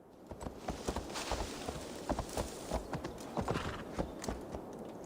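Hooves of a ridden horse in Assassin's Creed Valhalla clatter in a quick, even gallop over a rushing wind-like wash near an English coast, with faint creaks mixed in.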